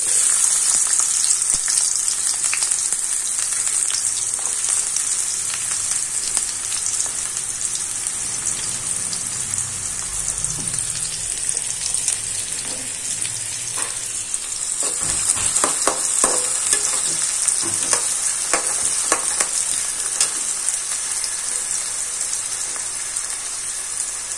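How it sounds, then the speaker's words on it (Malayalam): Small red onions drop into hot coconut oil and fry with a dense, continuous sizzle and crackle, with occasional stirring clatter close to the pan throughout and no talking. "വെളിച്ചെണ്ണ ചൂടായിട്ടുണ്ട്, നമുക്ക് ഇട്ട് കൊടുക്കാം."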